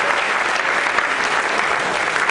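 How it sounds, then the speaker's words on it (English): A theater audience at a Berkeley Rep camp superhero show claps steadily, a dense, even burst of applause filling the whole stretch without any voices on top. "So a big round of applause to the Friends of Berkeley Camp."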